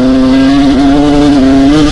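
Kawasaki KX100 dirt bike engine held in a high gear on sand dunes and trails, a loud, steady two-stroke drone with slight pitch wobble throughout, close and alone.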